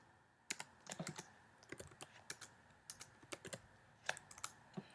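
Code is typed on a computer keyboard in Xcode, a quiet, uneven patter of soft key clicks with small bursts and gaps, close by and faint, with no voices.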